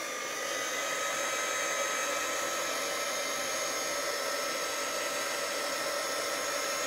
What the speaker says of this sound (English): So I'm putting the heat tool on now.